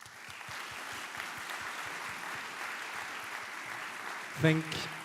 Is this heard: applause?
yes